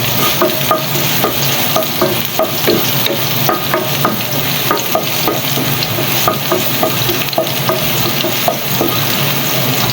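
Garlic sautés in a hot pan as the first step of a Batangas-style lomi, a loud continuous sizzle broken by busy, rhythmic scraping and stirring of a spatula against the pan.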